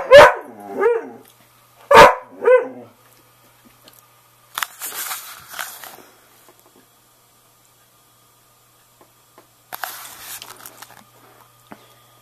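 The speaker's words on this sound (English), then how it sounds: "As soon as I turn this off, she's going to start barking again." A pet dog barks in short bursts near the start, several sharp close barks with gaps, followed later by rustling and handling noises.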